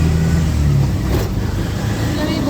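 An auto-rickshaw drives through heavy one-way traffic, its engine a close, loud, continuous rumble mixed with the surrounding road noise.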